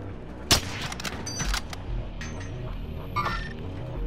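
A sniper rifle fires in a battle-royale video game, one sharp loud crack near the start followed by fainter gunfire and clattering effects over a steady game background.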